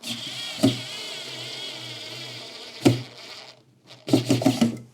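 A Parkside electric screwdriver with interchangeable heads drives a screw, a steady whirring motor hum broken by sharp clicks, then a pause and a burst of rapid ratcheting clicks at the end.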